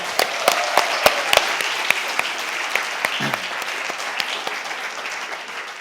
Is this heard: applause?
yes